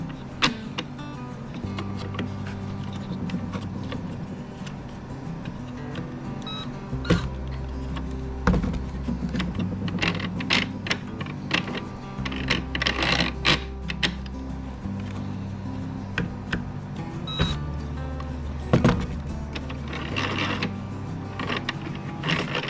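A toy Barbie elevator runs with a steady whirring, grinding motor and gear noise that starts and stops several times, with mechanical clicks and rattles throughout.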